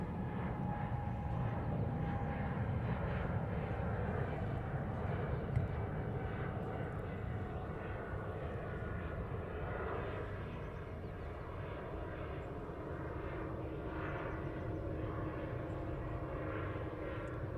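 A jet airliner departs Heathrow Airport's runway 09R on an early morning, its steady, broad engine roar holding strong and fairly even throughout with no talk.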